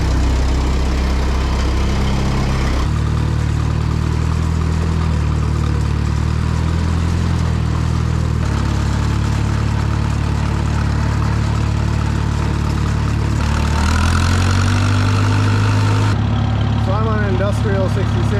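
An Oliver tractor engine idles just after starting, a loud low steady rumble that shifts in pitch a few times and runs throughout while people talk over it.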